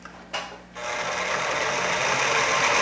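A sewing machine stitching a basting line on a zipper fly front starts after a brief pause and runs in a fast, steady whirring buzz, close and sustained to the end.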